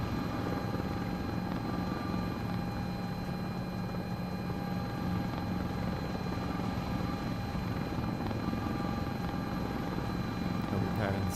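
A helicopter in a video game flight simulator gives a steady, close rotor-and-turbine drone with a sustained whine that holds even without a break.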